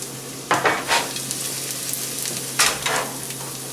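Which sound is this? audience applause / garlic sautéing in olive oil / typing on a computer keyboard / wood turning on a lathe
garlic sautéing in olive oil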